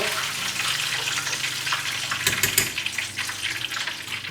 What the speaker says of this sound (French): comptez 2 minutes de friture